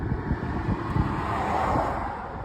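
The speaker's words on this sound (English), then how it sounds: "Hold on, car coming." A car passes by outdoors, its soft road rumble swelling to a peak midway and then fading, with wind buffeting the microphone throughout.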